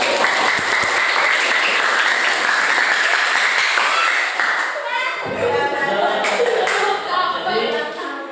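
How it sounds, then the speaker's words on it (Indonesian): Pupils in an eighth-grade classroom clap together: loud, dense applause for about five seconds, then thinning into scattered claps with children's chatter and voices over the top. "Tepuk tangan."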